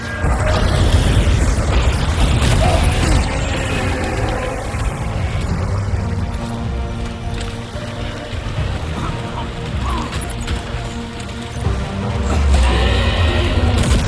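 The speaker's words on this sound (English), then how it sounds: "Let's throw a grenade at it." A grenade blast in the video game Death Stranding 2 during a boss fight: loud, deep booming rumble with heavy low-end layered under dense game sound and music, swelling again near the end.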